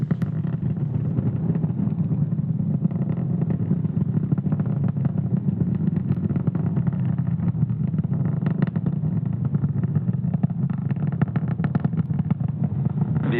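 Falcon 9 rocket climbing after liftoff from Space Launch Complex 40 at Cape Canaveral, Florida: a loud, continuous low roar with crackling texture holding steady throughout, no voices.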